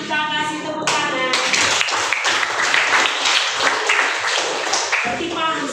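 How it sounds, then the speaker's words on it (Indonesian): A classroom of students claps together after a correct answer, a brief burst of talk then steady, fairly close clapping that carries on to the end. "Mari kita kasih tepuk tangan."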